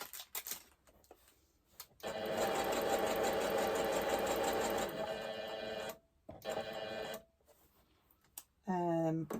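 A Brother sewing machine stitching a fabric shopping bag runs in a steady, close whirring burst for a few seconds, then stops, followed by short handling clicks and a brief rising whine near the end.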